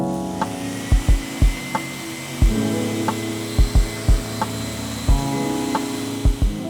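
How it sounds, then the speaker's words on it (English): An electric sander with 120-grit paper works across oak timber, a steady whirring drone broken by repeated low knocks and bumps as it moves back and forth along the grain. "I'm flowing from left to right, right to left, and I'm letting the sander do the work"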